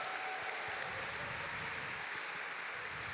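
Crowd applause fills the hall at a Pokémon TCG Masters Division final, a steady, dense clapping that holds evenly for the full three seconds with no voices on top.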